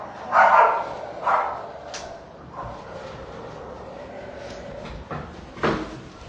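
A dog gives a few sharp barks and a low growl, spaced out over several seconds, fairly close against a quiet background.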